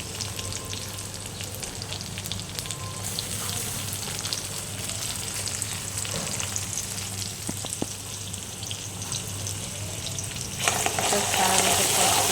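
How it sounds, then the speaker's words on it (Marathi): Tomatoes go into a hot pan with onions for upma, frying with a steady close sizzle and light stirring that swells louder near the end. "आता मी ह्याच्यामध्ये टोमॅटो टाकते."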